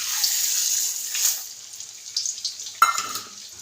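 Edible gum fries in hot ghee with a steady bright hiss, then settles into a softer, crackly sizzle with scattered pops.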